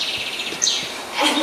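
Birds chirp and tweet in short, bright calls, a few scattered notes over a soft rustling outdoor background, fairly faint and with no talking.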